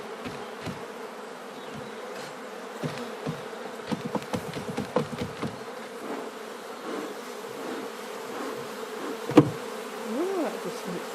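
Honeybees buzzing as they are shaken off a hive frame, a close, steady droning hum with louder swells and a few sharp knocks from the frame.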